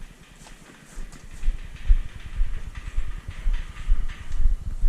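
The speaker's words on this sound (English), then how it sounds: "Here is Snowball the horse." Hooves clip-clop irregularly on the ground nearby, soft thuds growing busier as the horse shifts and steps around.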